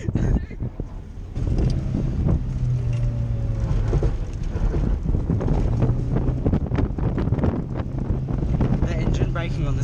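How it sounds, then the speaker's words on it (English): A Datsun Stanza engine braking while driven hard around a paddock, its low engine drone steady beneath loud, constant wind buffeting from an open window. "The engine braking on this is really good."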